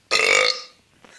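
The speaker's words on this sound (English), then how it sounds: "Whoa, Bruce, that is one powerful burp." A single loud, drawn-out burp from a pet hamster lasts about half a second and fades, followed by brief quiet.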